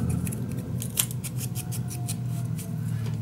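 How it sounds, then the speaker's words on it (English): Scissors snipping a small corner off a sheet of craft paper for a vintage winter mini album, a quick run of crisp, rhythmic cuts close to the mic over a low background hum, without speech. "Now what I'll do is just cut a little corner off."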